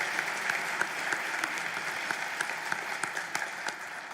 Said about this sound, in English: We haven't really gotten into our clapping rhythm since the pandemic, so this is good.